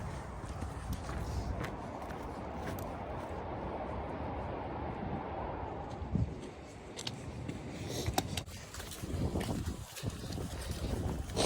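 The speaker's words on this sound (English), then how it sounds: "wind is picking up as expected" Wind gusts across the microphone on a mountain trail during an ultramarathon training run, a steady rushing buffet with faint footfalls and brief bumps underneath.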